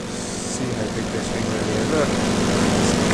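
Large-scale RC airplane passing low in the RealFlight 7 simulator, a steady propeller-engine drone holding at even volume with a slight rise, with a voice talking over it.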